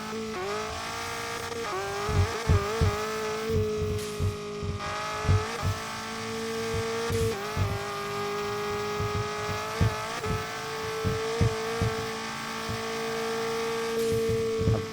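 A car in a racing video game drives fast with a sustained high engine drone, punctuated by repeated sharp tire squeals and skid bursts, loud and close throughout with no talking.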